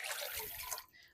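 Running water rinsing excess dye off freshly dyed fabric, a steady broad splashing wash that fills most of the moment before cutting off abruptly near the end.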